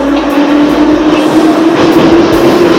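Train riding on rails, heard from inside the carriage: a loud continuous rumble with a steady low hum and faint rhythmic clatter, close and unbroken throughout.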